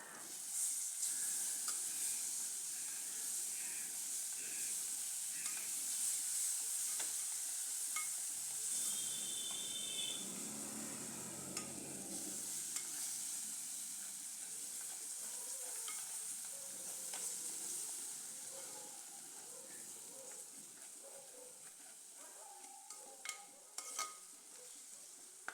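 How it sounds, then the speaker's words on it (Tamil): Tomatoes frying in a pan, with continuous soft sizzling and hiss throughout, a brief louder bubbling burst midway, and occasional light stirring taps. No one speaks. "அந்த தக்காளியோட வாசனை எல்லாம், பச்சை வாசனை எல்லாம் போகிற அளவுக்கு நல்லா ஃப்ரை ஆகட்டும்."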